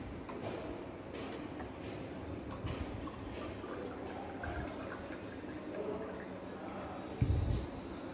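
Water poured into a homemade virgin mojito lemonade drink, a steady trickling liquid sound close by under low household background noise, with a brief louder clatter near the end.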